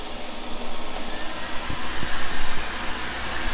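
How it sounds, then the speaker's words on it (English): A shop vacuum runs beside a milling machine fitted with a Wohlhaupter UK4 taper-cutting rotary head, giving a steady loud broadband whoosh with faint knocks underneath. "I'm going to turn on the vacuum."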